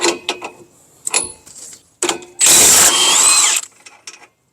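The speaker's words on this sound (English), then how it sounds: "Now remove the axle nut, and that's a 30mm socket." Power tool spinning a 30mm socket to remove the rear axle nut on a PT Cruiser, with a few short clicks and bursts, then one loud sustained whirring run of about a second near the end.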